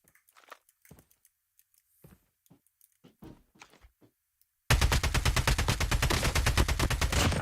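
Automatic gunfire from a gun in Warzone rattles in a loud, rapid, sustained burst after a stretch of quiet clicks and movement.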